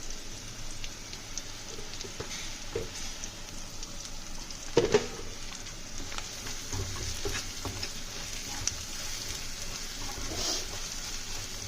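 Ginger garlic paste and chili powder frying in oil in a pan, a steady close sizzle with occasional stirring scrapes and a brief clatter midway, no talking.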